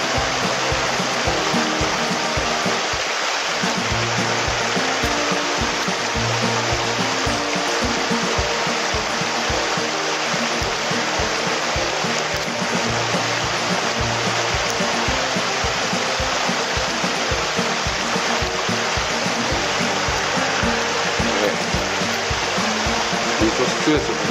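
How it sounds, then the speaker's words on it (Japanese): Strong river current flowing in eastern Hokkaido's Tokachi region, a loud, steady broadband rush of water heard close throughout, with a voice talking intermittently over it. "水押し強いですよ、ここは。"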